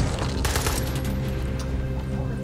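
Rapid automatic gunfire in Far Cry 6, a dense fusillade of shots close and loud across the whole short stretch.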